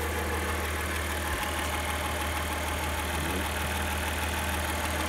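Mitsubishi Shogun Elegance 3.5 V6 engine idling, a steady low mechanical hum and whir heard close up, even and continuous with no rattles or taps standing out, and no voices.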